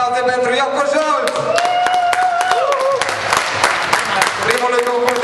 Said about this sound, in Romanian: Aplauze pentru Ioco Jolt!